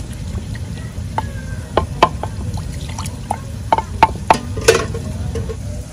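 Chicken liver frying in a pan with black peppercorns, cinnamon and bay leaf stirred in, a soft steady sizzle punctuated by sharp clicks and scrapes of the spoon against the pan.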